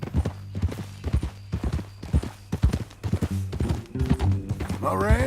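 Horse hooves clip-clop in a steady, close walking rhythm through Red Dead Redemption 2, with characters talking over the hoofbeats.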